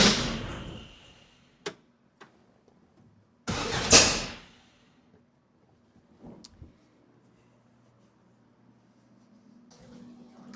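Car engine fitted with Weber IDF carburetors cranks over and catches in one loud, rough burst that backfires and dies away within about a second, followed by a few faint knocks in near silence.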